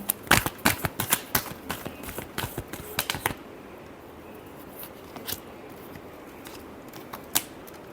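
Tarot cards being shuffled by hand, a quick series of crisp riffling snaps for about three seconds, then a quiet pause broken by a few isolated card taps, close and clear with no talk.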